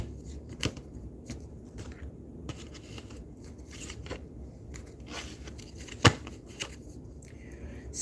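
Tarot cards are shuffled close by in a series of soft riffling and slapping bursts with one sharp snap partway through, fairly quiet and with no voices.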